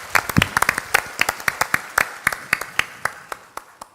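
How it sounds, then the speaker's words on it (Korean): A church congregation at an Easter Sunday worship service claps loudly, in a lively burst of overlapping claps that thins to scattered, evenly spaced hand claps as it fades out. "여러분 뜨거운 박수로"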